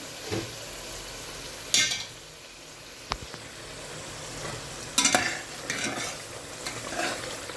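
Whole spices fry in a pan with a quiet sizzle, broken by a few scraping stirs and metallic clinks of a spoon against the pan, close by, with no talking.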